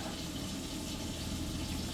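Water runs steadily from an under-sink filter tap in a cargo trailer conversion, a smooth, constant rushing stream, close and moderately quiet, with no voices.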